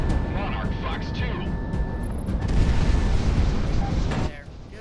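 A big explosion in a Shadow in the Clouds aircraft shooter game rumbles out as a dense, low boom that swells midway and then cuts off sharply, mixed with steady in-game noise.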